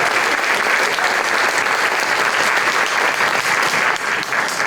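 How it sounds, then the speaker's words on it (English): An audience at a high school pageant gives a contestant a sustained round of loud, dense applause, continuous clapping throughout that eases slightly near the end. "Let's give another round of applause for contestant number 2,"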